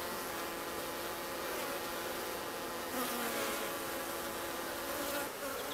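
Honey bees buzz densely around comb frames pulled from a hive, a steady close swarm drone filling the whole stretch with no pauses.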